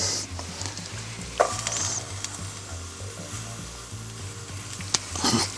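Pizza frying and sizzling on a Weber grill fitted with a trivet and an aluminium plate, a steady close crackle with a low hum underneath and a few sharper pops and scrapes.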